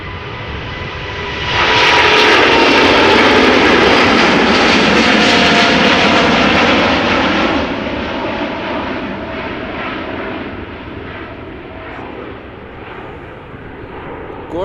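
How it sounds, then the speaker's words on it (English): A Finnair Airbus A350-900 jet takes off at Amsterdam Schiphol Airport, its engine roar swelling quickly into a loud sustained rumble and whine, then slowly fading as it climbs away. "A350-900 going to Helsinki, Finland."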